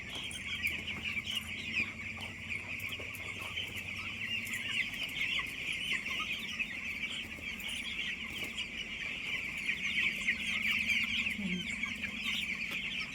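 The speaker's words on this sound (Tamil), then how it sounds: "கோழி பண்ணைக்கு தீவனம் போடுறது" Many chickens cluck and chatter continuously at a poultry farm during feeding, a dense, steady flock din close by with no talking.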